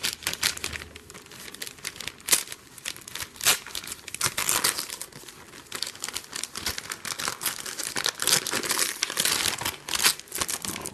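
Paper and wrapping from a spring swap package crinkle and tear steadily up close as it is unwrapped, with dense rustling bursts and sharper crackles throughout and no talking.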